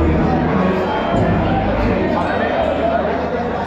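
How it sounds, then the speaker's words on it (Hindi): A crowd of pilgrims at Kedarnath in winter: a dense, steady murmur of many voices with faint clinks, close and continuous, with someone talking over it. "अंदर देखो भीड़, ये सब सब के सब केदारनाथ वाले।"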